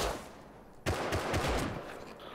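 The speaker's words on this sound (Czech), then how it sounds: "Někdo střílí." Several bursts of gunfire in the survival video game Rust, starting abruptly after a quiet stretch and continuing as dense, overlapping shots at close range with no talk.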